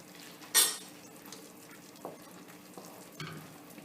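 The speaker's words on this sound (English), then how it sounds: "And we just mix all this in for a nice cheesy sauce." Cheese being stirred into a seafood mac and cheese sauce, a faint sizzle under occasional spoon scrapes and light clinks against the pot, with one brighter clatter early on.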